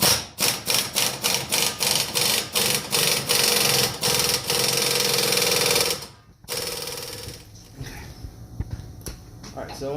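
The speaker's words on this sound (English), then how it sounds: "We have an air wrench, so we're going to do an air wrench." An air wrench on a pressed ball joint rattles in quick, loud impact pulses, then hammers continuously for a few seconds before stopping.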